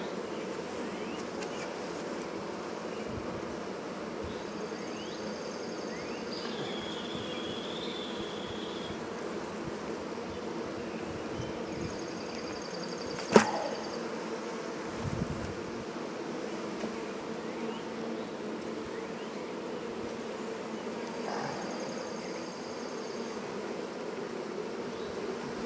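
Bees from a hive built inside a cat house buzz softly in a steady background drone, with faint higher whines from individual bees passing near and a brief sharp click partway through; no one speaks.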